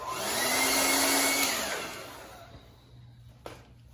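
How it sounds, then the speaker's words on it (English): A hair dryer whirs loudly at close range while drying a car badge area on a Chevrolet Camaro, then winds down and cuts off, leaving a faint hum and a small clack. "we have a lucky way to dry this here, handy hair dryer."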